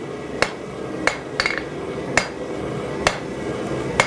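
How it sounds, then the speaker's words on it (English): A blacksmith's hammer strikes hot steel on an anvil while forging a pair of tongs and drawing out a reverse taper. Six sharp, ringing, close blows land at an uneven pace over a low shop hum, with no talking. "I'm going to go ahead and chop my hammer, angling it back towards myself to reduce that material and start getting a reverse taper"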